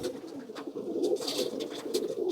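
Pigeons coo continuously in a loft, with soft overlapping low burbling calls at moderate distance and a few faint rustles or scratches in between.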